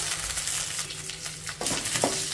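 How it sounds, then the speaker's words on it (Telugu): Small onion pieces fry lightly in a pan with broken dried red chillies and curry leaves, giving a steady close sizzle with occasional stirring scrapes and no talking. "ఉల్లిపాయ ముక్కల్ని లైట్గా ఫ్రై అవ్వనివ్వాలి"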